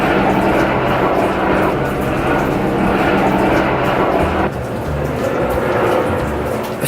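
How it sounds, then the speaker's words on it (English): Steady, loud rotor-like engine drone overhead, continuous throughout with a slight dip in the middle, no voices. "I swear this helicopter is flying in"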